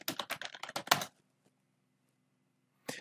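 Quick, close bursts of computer keyboard typing clatter for about a second, then quiet follows, with one more key tap near the end.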